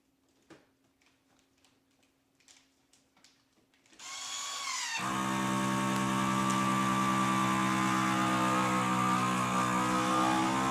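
A vacuum sealer starts with a sudden onset and runs as a loud, steady motor drone with a constant pitch, pulling air from a bag of lamb for sous vide. A few faint clicks and handling noises come before it starts.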